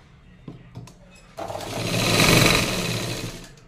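A sewing machine stitching a joint on a katori blouse, starting with a few soft clicks and taps and then running into a steady, loud mechanical whir that swells and eases slightly, close up.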